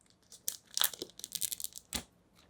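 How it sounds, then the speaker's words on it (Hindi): Plastic film wrap being torn and peeled off a new iPhone 12 box, a string of close, crinkly tearing bursts over a couple of seconds with no talk. "देखो ध्यान से, पन्नी हट गई है।"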